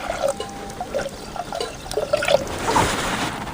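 Half a tumbler of water poured into a cooking pot set on a lit stove, a soft close trickle and splash building slightly toward the end, with no talking.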